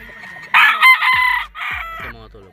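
A battle stag rooster crows loudly nearby in a few broken bursts, with short clucks between them.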